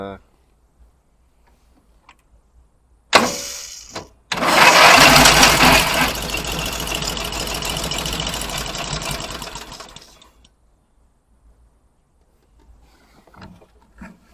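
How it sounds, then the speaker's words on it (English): Troy-Bilt engine with a fuel leak bursts into loud, rough running for several seconds, then drops back off into near silence with only faint handling noises around it. "See if I can't idle this thing up a little bit."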